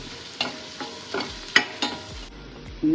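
A spoon stirs Kashmiri chili powder and turmeric in a hot pan for a tomato moru curry, scraping in a few distinct strokes over a low oil sizzle, close and clear with no talk.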